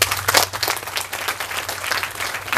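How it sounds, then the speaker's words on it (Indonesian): A crowd claps for a poet at a gathering, a short, dense burst of applause that holds steady and fairly close, with no talk over it. "Iman Budi Santoso, tepuk tangan."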